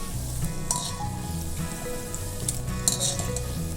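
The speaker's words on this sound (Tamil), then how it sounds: "பார்த்தீங்கன்னா சூப்பராக ஜாமுன் வந்து ஃப்ரை ஆகிட்டு இருக்குங்க பாருங்க" Milk powder gulab jamun frying in hot oil, a continuous moderate sizzle and bubbling with a couple of brief sharper crackles, no voices.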